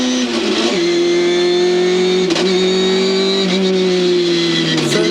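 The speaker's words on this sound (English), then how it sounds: "Sounds like selection problems for Phil Ward with the new sequential gearbox." A touring race car with a new sequential gearbox drones loudly and close at Phillip Island, its engine note holding steady and then dipping and rising in pitch as the gear selection falters.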